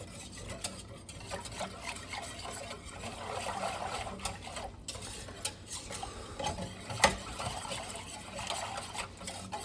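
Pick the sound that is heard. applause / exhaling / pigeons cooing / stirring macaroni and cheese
stirring macaroni and cheese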